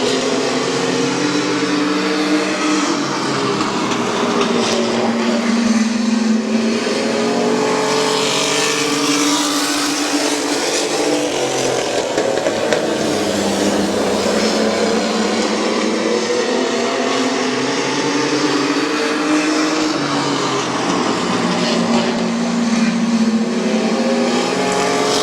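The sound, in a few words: stock race cars racing at Midvale Speedway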